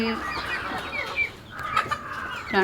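Fayoumi and Brahma hens cluck and chatter close by in short, uneven bursts, with a few higher squawks toward the end.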